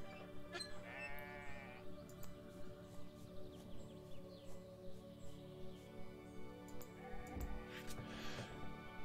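Goats bleat repeatedly in the video game The Stillness of the Wind, faint, wavering cries over a quiet, steady ambient background.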